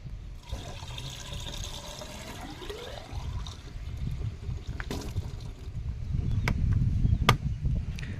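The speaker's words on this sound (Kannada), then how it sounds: "ಫೈನಲಿ ನೀರು ಹಾಕಿದ್ದಾಯಿತು." Water is poured into a car's windscreen wiper reservoir, a steady gurgling trickle whose pitch rises as the container fills, followed by sloshing and a few sharp knocks nearby.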